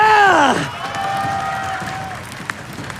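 A crowd in an esports arena at a Mobile Legends playoff match lets out a loud rising whoop and cheer, then settles into a lower sustained roar with faint scattered applause beneath it.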